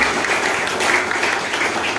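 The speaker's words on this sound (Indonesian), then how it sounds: "sekali lagi tepuk tangan buat Pak Nagana ini" Sustained audience applause at a Dharma Tula gathering for a Pujawali ceremony in Bekasi, a dense, steady wash of clapping filling the full two seconds with no break.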